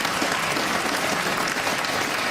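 A Saturday Night Live studio audience applauds during a comedy monologue, a dense, steady wall of clapping that stays loud and even from start to finish.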